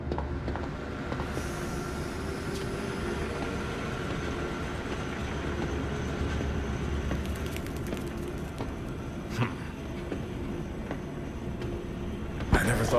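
A rail trolley train rolls through a zoo in the video game Zoochosis with a steady, continuous rumble and faint rattling, loud and close and holding the same level throughout, with clanks near the end.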